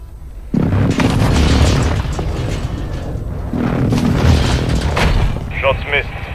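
Airstrike explosions in Warzone 2 at Vondel Park: two heavy, rumbling booms, the second arriving about three seconds after the first, each trailing into a long roar, with a brief chirping burst near the end.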